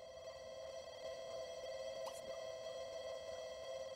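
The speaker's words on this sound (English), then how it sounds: "Phone's ringing." A telephone rings in The Sims 2 video game, a faint, continuous electronic tone sustained across the whole stretch with no voices over it.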